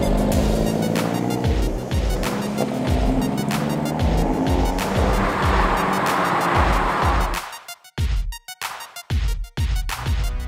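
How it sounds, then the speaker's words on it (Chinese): A 2022 Hyundai Elantra N lapping Sonoma Raceway, its engine droning loud and steady as revs rise and fall through gear changes, then breaking into choppy bursts near the end. "现在准备在跑道上面开车"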